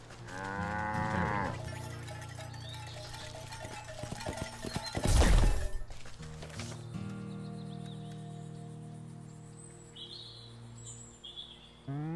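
A cow moos in the video game Wytchwood, one loud drawn-out low bellow mid-clip over a continuous game soundscape with a few tonal chimes and distant bird-like calls.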